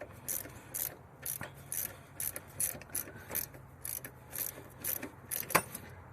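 A ratchet wrench clicks in quick bursts of repeated strokes while loosening a 17 mm bolt on a Hyundai Sonata during transmission mount replacement, close and fairly quiet, with no talk.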